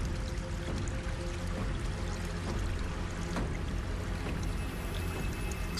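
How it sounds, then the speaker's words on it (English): Volcanic vents spew magma-heated water into Laguna Colorada on a high plateau, a constant loud gushing and splashing rush of water with no pauses. "Some spew magma-heated water into Laguna Colorada, giving the flamingos respite from the coldest nights."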